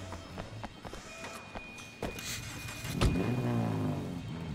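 Car driving in the open-world game Sleeping Dogs: Definitive Edition, a steady engine drone with a few thumps and a louder surge near the end, no talk over it.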